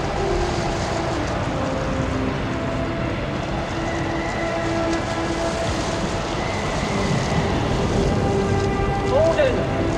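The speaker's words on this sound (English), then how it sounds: "It's heavy drizzle at the moment." Heavy drizzle falls steadily outdoors, a continuous close hiss of rain on surfaces that holds an even level throughout, with faint tonal hums and a brief chirp near the end.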